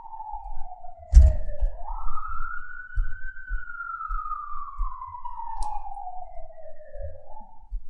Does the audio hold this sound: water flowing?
no